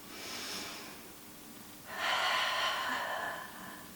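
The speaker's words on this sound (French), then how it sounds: "Et on fait une dernière respiration." A person in a Pilates session takes a deep breath, a faint airy inhale followed after a pause by a longer, louder breathy exhale heard close up.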